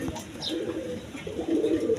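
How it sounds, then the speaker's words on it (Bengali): A pair of Bombay pigeons, a male and female brooding two eggs, coo softly and steadily at close range, their low throaty calls rising and falling in overlapping waves. "এখানে এক পেয়ার বোম্বাই ইন্ডিয়ান বোম্বাই কবুতর আছে"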